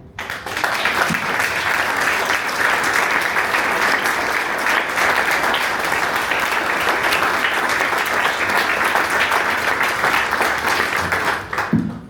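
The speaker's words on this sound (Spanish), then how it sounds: "yo la aplaudo" Sustained applause from an audience at a talk on women in Argentine politics, a dense, steady clapping that holds loud and even for the whole stretch, with no voices over it.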